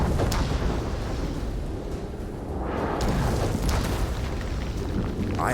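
Deep rumbling blasts from explosions in the video game Shadow of War roll one into another, with sharp cracks layered over a heavy, sustained low boom.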